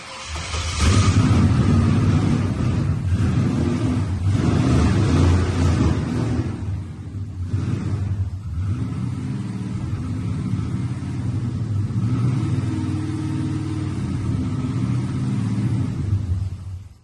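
A used engine for a Chevy Nova, fitted with an F-body oil pan, idles steadily with a deep, continuous rumble and slight revving swells near the start, loud and close with no talking.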